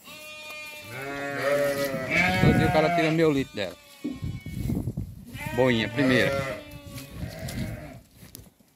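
Sheep and goats, including nursing does and ewes with lambs, bleat repeatedly and loudly on a farm pen in Dois Riachos, Alagoas, while someone talks close by.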